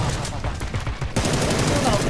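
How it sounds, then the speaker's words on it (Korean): Gunfire in a Korean online battle game, a rapid burst of close shots that cuts in sharply halfway through over steady background game noise. "총알 날라온다."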